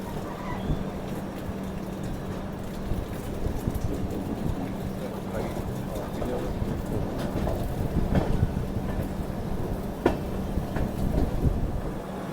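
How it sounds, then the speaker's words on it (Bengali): Howrah Rajdhani Express (12306) pulling out of Jasidih station: a steady low rumble and rattle of rolling carriages heard from on board, with wheel clicks and scattered clanks building slightly over the stretch, voices faint in the background. "জোশিটি থেকে ট্রেন ঠিক টাইমেই মোটামুটি ছেড়ে দিয়েছে"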